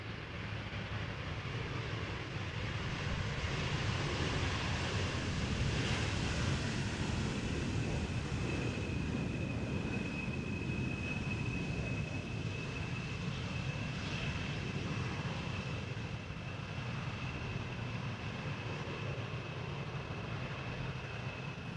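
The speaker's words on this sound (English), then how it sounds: "another Embraer coming in from Stuttgart" A five-year-old KLM Embraer airliner landing at Amsterdam Schiphol after a flight from Stuttgart makes a steady, loud jet roar with a faint whine, sustained evenly for over twenty seconds.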